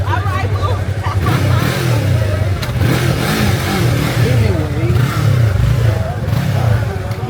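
Motorcycle engines started and revved at a nighttime gathering of bikers, a loud continuous low roar with rising revs, under a babble of crowd voices and talk.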